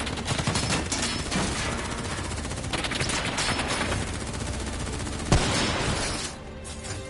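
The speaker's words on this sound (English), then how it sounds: "Who's shooting?" Sustained automatic gunfire from a Black Ops 3 campaign battle, dense bursts roaring continuously with a sharp crack near the end before the volume drops slightly.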